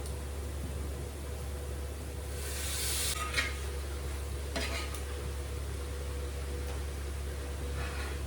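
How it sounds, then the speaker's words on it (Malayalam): Washed chicken going into an onion-tomato masala in a hot pan for biryani, a steady sizzle with bursts of stirring and scraping, close and fairly soft, no voices. "ചിക്കൻ കഴുകി വെച്ചിട്ടുണ്ട്, അത് ഇതിലേക്ക് ഇടാം കേട്ടോ."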